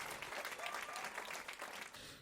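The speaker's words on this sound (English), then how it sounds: "give yourself a big round of applause" A small crowd claps in a burst of applause that stays even and fairly soft, then tapers slightly toward the end.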